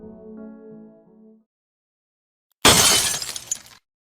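A glass container holding a sample shatters on the floor after a microscope falls, a sudden loud crash with scattering fragments lasting about a second, preceded by a short low tonal passage and then silence.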